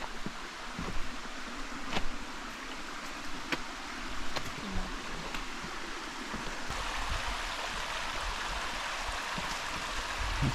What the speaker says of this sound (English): Yeah, lovely little stream.